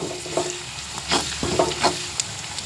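Beetroot poriyal being stirred and sautéed in a pan with turmeric, a few scraping strokes of a spoon over a light sizzle, close and fairly quiet.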